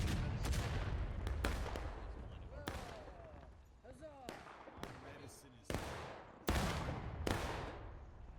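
Artillery booms and rifle shots ring out across a Civil War video game battle, sharp broadband cracks arriving every second or so at varying distances, with voices talking underneath.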